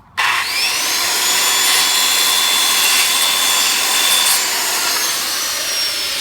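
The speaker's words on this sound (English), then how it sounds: "just go ahead and start your saw and try to get that close angle, and then drop it down and it'll finish it out" A power saw cuts through a wooden roof rafter during a remodel, starting abruptly and holding a loud, steady high whine as the blade runs through the wood for several seconds, with no talking.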